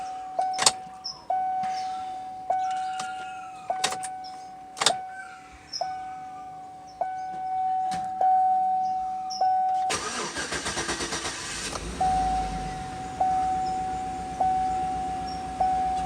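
A Chevrolet/GMC truck engine cranks over and catches after a fuel pump replacement, following repeated key-on chimes and fuel pump priming cycles, then settles into a steady idle, close and clear.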